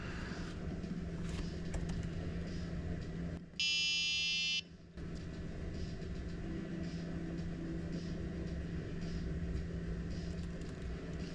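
A Pi Pico coding kit buzzer sounds one steady, loud electronic tone for about a second, cutting sharply through a constant low background hum and stopping abruptly.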